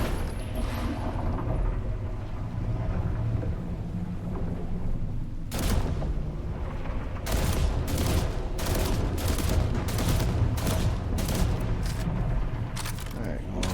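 Gunfire from a weapon test in The Last Caretaker, a series of sharp, evenly spaced shots cracking over a dense, constant game background, with a voice talking over it.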